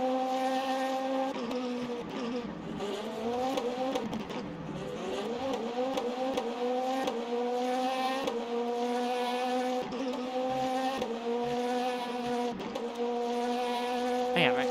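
A BMW race car at Le Mans passes with a whining engine note climbing and falling through gear changes, heard at moderate distance among other cars, with faint buzzing layers and no talk.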